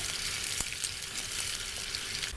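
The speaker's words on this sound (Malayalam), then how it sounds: "കടുക് പൊട്ടുന്നുണ്ടെങ്കിൽ നമുക്ക് കൊച്ചുള്ളി, ചെറിയ ഉള്ളി ഇട്ട് കൊടുക്കാം." Small shallots hit hot oil with popping mustard seeds, a close, steady sizzle with sharp crackles and spits, as a tempering is made for a coconut and cashew chutney for dosa and idli.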